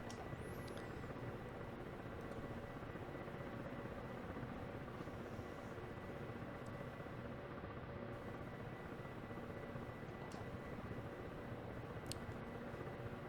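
Kamov Ka-50 coaxial-rotor attack helicopter hovering in the DCS flight simulator, a steady, dense rotor and turbine drone that stays even and fairly quiet throughout.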